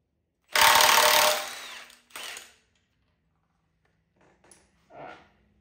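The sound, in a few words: power tool removing an engine crank pulley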